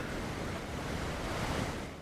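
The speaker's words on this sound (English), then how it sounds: "Waterfall." A waterfall in the game ARK: Survival Evolved, on the Valguero map, gives a steady, fairly faint rushing roar that holds evenly for two seconds with no voices over it.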